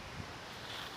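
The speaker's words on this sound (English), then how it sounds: "the wind just picked up really hard" Strong wind gusts buffet an outdoor microphone, producing a brief, steady roaring rush with low rumble.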